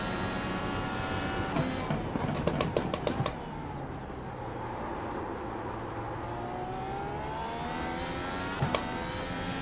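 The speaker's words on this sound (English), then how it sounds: "they sound pretty decent, them BMWs" BMW GT3 race car engine in a sim racing game at Barber Motorsports, a steady droning engine note with gear-shift pops and a burst of rapid clicks early on, fairly quiet.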